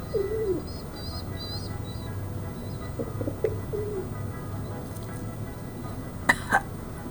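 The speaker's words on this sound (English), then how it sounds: "Bird fight." Birds squabble in a fight, a mother bird defending her young, with brief chirps and coos over steady background noise and a couple of sharp calls near the end.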